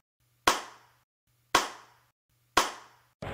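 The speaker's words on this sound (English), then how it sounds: "You guys are clapping quickly." Three separate sharp hand claps from a small audience, spaced about a second apart, each with a short decaying tail, loud against near silence, with a fourth clap starting at the end.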